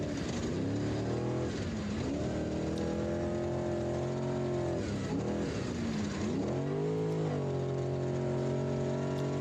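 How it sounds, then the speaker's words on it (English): An off-road spec race truck engine screams at sustained high revs, with clear pitch drops as it shifts gears a few times, loud and close from an onboard position, with no talk. "You hear the difference in shifting in a spec truck versus the unlimited trucks."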